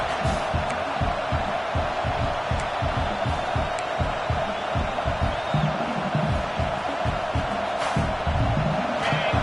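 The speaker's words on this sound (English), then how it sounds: "The roar of the crowd trying to fuel this defense to keep them pinned in their own end" A football crowd roars in a stadium during a Ducks versus Sooners game, a continuous broad wash of cheering at moderate level with rhythmic thumping underneath, no clear speech.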